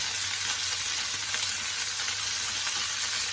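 Garlic and pork fry for Filipino pancit canton with a dense, even sizzle that holds steady and close throughout, bright spattering crackle filling the whole stretch with no voices.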